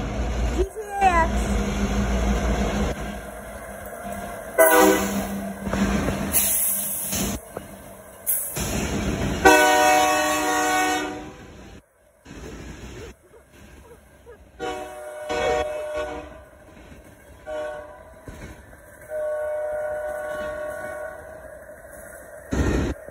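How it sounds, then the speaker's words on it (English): An Amtrak train with a heritage-livery unit passing on the US east coast, sounding several long, loud horn blasts amid rolling rail rumble, with people talking nearby. "Here it comes. Here's a train."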